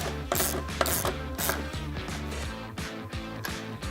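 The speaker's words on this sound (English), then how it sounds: "Once the plate's lined up and all the studs are coming through," A ratchet tightens nuts onto the studs of a boxed radius arm plate on a Can-Am Maverick HD, giving quick repeated clicking bursts in a regular rhythm, close and fairly loud.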